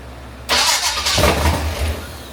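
A Chevrolet Camaro engine cranks and catches after a spray of starter fluid, then settles into a loud, uneven idle close by.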